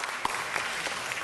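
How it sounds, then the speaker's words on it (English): An audience at a city council meeting applauds, a soft, steady patter of clapping heard from some distance and fairly quiet throughout. "Give her a round of applause."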